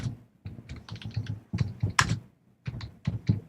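Rapid bursts of keystrokes on a computer keyboard during a wrestling podcast recording, loud and close, clattering in irregular clusters with short pauses, no talking over it.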